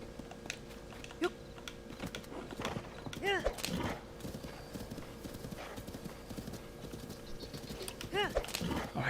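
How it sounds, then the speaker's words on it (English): Hoofbeats of a big horse galloping in Zelda: Tears of the Kingdom, a steady rhythmic clip-clop through the whole stretch with occasional whinnies and game effects, while a person talks over it. "But yeah, I got the big horse."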